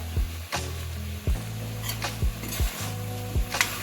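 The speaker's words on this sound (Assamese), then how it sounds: "আকৌ মই লৰাই দিছোঁ লাই শাকখিনি দিয়াৰ পাছত।" A utensil stirs boiled chicken with mustard greens in a pot, giving a handful of sharp, evenly spaced scrapes over a steady low hum and faint sizzle, close by and with no voices.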